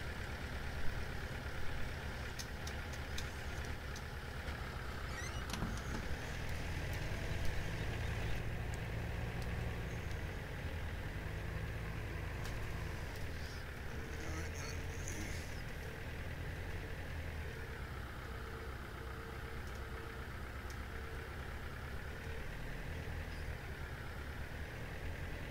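A small tractor engine idling and running in Farming Simulator 17 on a 1968-era farm map, a steady low rumble with slight shifts in pitch, continuous and fairly close, with no voices over it.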